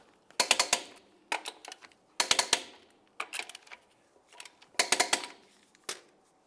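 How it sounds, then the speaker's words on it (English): Torque wrench clicking and ratcheting while tightening the lug nuts on a 1998-2002 Lincoln Navigator wheel to 150 foot-pounds, in several quick bursts of sharp metallic ratchet clicks separated by short pauses, close by, no talk. "continue on to torquing each of your lug nuts to 150 foot-pounds"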